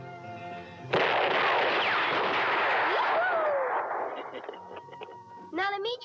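Gunfire in a western film: a loud, sustained roar of shots and blasts that gradually thins out, followed by a few sharper cracks near the end.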